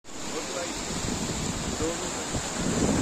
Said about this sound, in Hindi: ठंडी ठंडी मस्त हवा चलन लग रही है